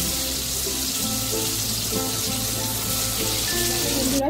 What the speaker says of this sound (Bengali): আমি একই রকম ভাবে সমস্ত ধোকাগুলোকে ফ্রাই করে নেব।